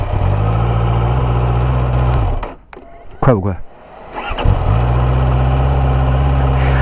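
A QJmotor Race 800 motorcycle engine idles with a steady low throb, briefly cuts out, then blips through a couple of sharp revs before settling back into idle, with someone speaking briefly over it.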